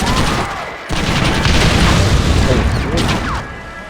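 Loud, dense barrage of explosions and rapid gunfire in the video game Red Dead Redemption, continuous and booming throughout, with a brief dip near the start and voices faintly mixed in.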